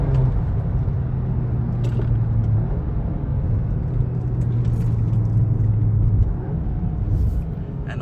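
A 2023 VW Golf R MK8 with a 235 kW DSG drivetrain is driven hard on a road with traffic, its engine a steady droning rumble from inside the cabin, the pitch holding and shifting slightly before easing off near the end.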